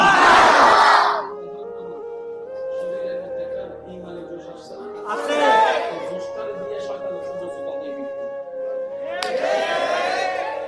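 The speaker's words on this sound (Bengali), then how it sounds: "উচ্চ আওয়াজে একবার বলেন মারহাবা" A crowd at an Islamic waz gathering roars marhaba in unison, a loud burst at the start, then two shorter swells of shouting later over a sustained tonal drone.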